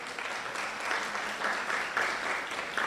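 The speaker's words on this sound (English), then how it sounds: "Can we give them a round of applause?" At an ADR moot competition, an audience gives instructors and coaches a round of applause, a steady wash of clapping with a few louder swells.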